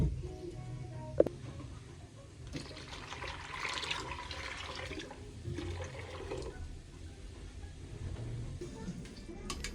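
Water poured from above into a pot of simmering green sauce, a steady splashing pour lasting several seconds with a faint clink at the start and quiet kitchen background.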